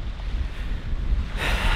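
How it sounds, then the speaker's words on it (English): Gusty wind rumbles against the microphone outdoors, with a brighter rush of air swelling near the end. "It's kind of windy outside."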